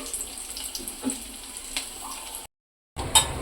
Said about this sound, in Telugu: ఆయిల్ అయితే హీట్ చేస్తున్నాను కదండి అలాగే ఇందులో ఒక ఒక వన్ స్పూను పోపులు